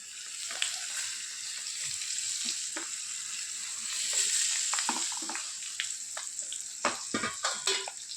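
Hot oil is poured over a raw mango pickle mixture with chickpeas and fenugreek, giving a loud, close, fizzing hiss with scattered crackles and pops that grow sharper toward the end.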